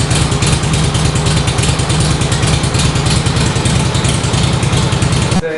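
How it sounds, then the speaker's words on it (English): A 1954 Harley Panhead fitted with a right-side electric starter runs loud and close, its lumpy, rhythmic engine chugging steadily before cutting off at the end. "Retard the spark, turn on the key, push button Panhead."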